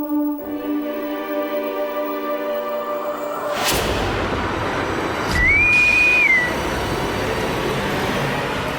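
A person whistles a single rising-then-held note, moderately loud over a busy, noisy background with a sharp burst just before it.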